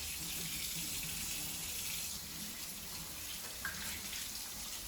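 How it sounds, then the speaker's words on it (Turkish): Hands being washed under a running bathroom sink tap, a steady close hiss of flowing water with faint splashing, no clear talk over it. "Ellerini yıka bakalım"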